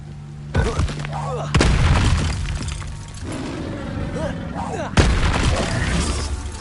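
Spells cast in Hogwarts Legacy produce sudden booms and shattering bursts that ring out into sustained rumbling effects, with a voice calling out over the blasts.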